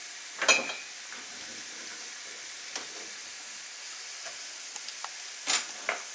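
Carrots stir-frying over high heat for Cantonese fried rice give a faint, steady background sizzle, broken by a few brief louder scrapes and clatters of stirring near the start and end.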